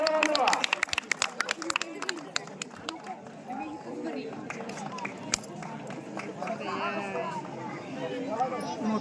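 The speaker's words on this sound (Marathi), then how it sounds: "सर्वांनी टाळ्या वाजवा" Audience clapping at a traditional village fair with dhol drumming and mallakhamb, scattered sharp claps rising over crowd chatter and voices, fairly close and moderately loud, settling into a steady hubbub.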